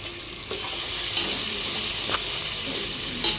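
Ginger-garlic paste with cloves and cinnamon frying in hot oil, a steady loud sizzle with a few faint scrapes of stirring.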